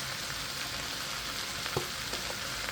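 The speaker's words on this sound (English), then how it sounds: "Just keep on stirring." Thai fried rice with pineapple, garlic and basil sizzling loudly in a pan, continuous frying hiss with light scrapes as it is stirred.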